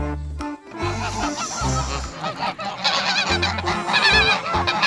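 Goose honking in repeated loud nasal calls, close and dominant, mixed with pulsing low thumps and splashy washing noise as a toy animal is cleaned.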